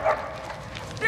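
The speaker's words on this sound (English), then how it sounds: "Dog." Dog barking in the post-apocalyptic game Mad Max: a couple of short, close yips and barks, one at the start and one at the end, over a low background bed, with a voice speaking alongside.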